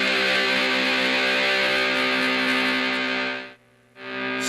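A Buzzaround clone fuzz pedal drives a guitar signal into heavy transistor distortion, producing a thick, sustained buzzing fuzz tone that holds steady for several seconds, cuts out briefly near the end, then returns.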